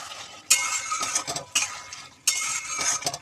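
Fried cauliflower masala with green chilies stirred in a pan, with three bursts of metal spoon scraping and clinking over a soft sizzle, close and distinct.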